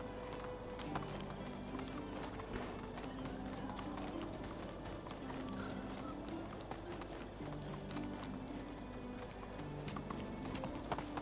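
A horse in the medieval life-sim game Medieval Dynasty gallops in a fast, unbroken run of hoofbeats, close and steady, with a faint whinny. A tonal musical drone sits beneath.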